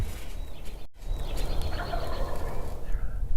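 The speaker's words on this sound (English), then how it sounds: "they've been gobbling here on the ridge every morning" Wild turkeys gobble on a ridge at dawn, with several rattling gobbles at moderate distance over outdoor background noise and no one speaking.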